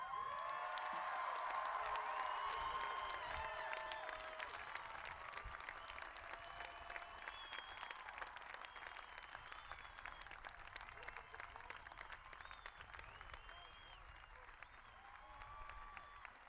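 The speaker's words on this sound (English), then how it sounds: "And now you can cheer all you want." A graduation crowd at a college commencement breaks into sustained applause and cheering, steady dense clapping filling the hall at moderate distance for the whole stretch, slowly easing toward the end.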